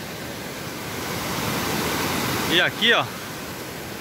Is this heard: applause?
no